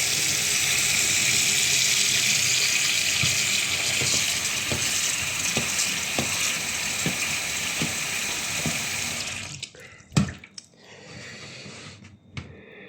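A tap runs steadily for about nine seconds with a loud, even gush of water, then shuts off, leaving a few small knocks and drips in a quieter room.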